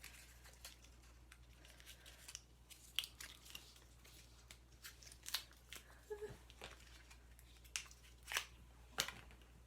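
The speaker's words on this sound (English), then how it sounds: "I'm like tearing the package apart just so I can get it out to show you guys." Cosmetics packaging from a beauty subscription bag being torn and ripped open by hand, a series of short, sharp crinkling and ripping bursts scattered irregularly over quiet room tone, close and fairly soft.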